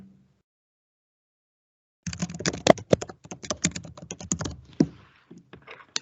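Fingers type an email login on a computer keyboard, a quick run of close, irregular key clicks that starts after two seconds of silence and thins into scattered taps near the end.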